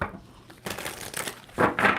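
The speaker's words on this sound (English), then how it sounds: "Let's get this bad boy shuffled more." A tarot card deck being shuffled, with close, soft crinkly riffling and rustling that grows busier and louder toward the end.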